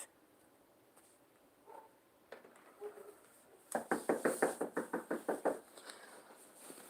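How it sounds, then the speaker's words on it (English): A bedroom door swinging shut, heard as a series of sharp, loud knock-like impacts in quick rhythm after a few quieter bumps, close by with no talk over it. "Yeah, I just closed my door."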